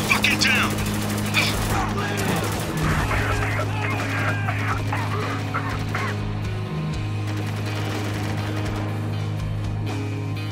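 Bursts of gunfire in the Spec Ops: The Line video game crackle over a steady droning game soundtrack with honk-like tones throughout, loud and continuous.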